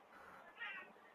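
A cat gives a single soft meow, faint and brief, rising midway through a short quiet moment.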